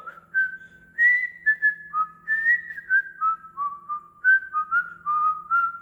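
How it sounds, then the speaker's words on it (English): A person whistles a rhythmic run of short, clear notes that step up and down in pitch, close and alone over a faint low hum. "You whistle."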